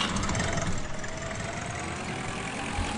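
A tractor engine idles in the farming game Agricultural Simulator Historical Farming, a steady low rumble that holds at an even level throughout without talk.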